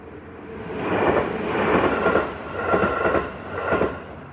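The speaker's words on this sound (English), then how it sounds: "And a train will pass in just a second." A JR main line train passes a residential spot in Japan, its rumble swelling and fading in repeated waves with rhythmic wheel clatter, fairly close and loud, with no talking.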